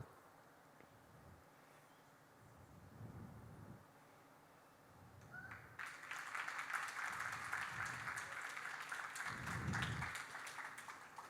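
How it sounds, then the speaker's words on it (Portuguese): Applause from a conference audience, voting for the third of several proposed dreams, swells up partway through, a faint, distant wash of clapping over a low rumble of room noise. "o terceiro teve mais palmas"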